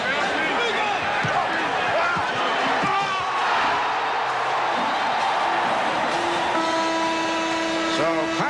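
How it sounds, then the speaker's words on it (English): Arena crowd at a Bulls versus Knicks basketball game roaring after a Patrick Ewing dunk, a steady loud cheer with a commentator talking over it. "Patrick Ewing ignited the crowd with this emphatic stuff"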